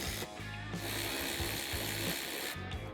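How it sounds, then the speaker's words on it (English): Fender bolts coming off a 2018 or later Jeep Wrangler JL, with a power tool or ratchet buzzing in steady, close bursts and brief pauses between them. "You will need to remove a trim clip, as well as 4 to 5 bolts"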